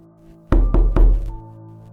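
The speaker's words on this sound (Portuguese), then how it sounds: "Eram batidas urgentes e impacientes." Three quick, loud, close knocks on a bedroom door, sharp and evenly spaced, urgent in rhythm, then a fading resonance against a quiet background.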